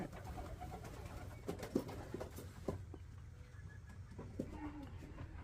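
Young racing pigeons being handled for vaccination, giving soft, low coos scattered through a steady background rumble and handling noise, fairly faint and close.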